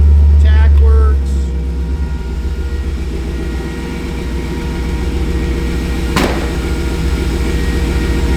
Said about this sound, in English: Holds good oil pressure.